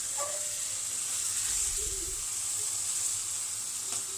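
Masala cooks in a pan of oil for phulurir jhol, a steady close hiss and sizzle throughout, with a soft stirring thud midway and light clinks.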